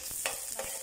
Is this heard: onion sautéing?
yes